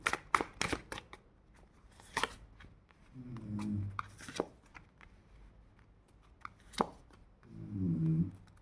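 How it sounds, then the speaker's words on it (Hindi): Tarot cards being shuffled and drawn for a reading, heard close up as irregular crisp riffles, flicks and soft card snaps, with a couple of low murmuring hums in between. "मैं यहाँ 10 कार्ड रीडिंग निकालने जा रही हूँ।"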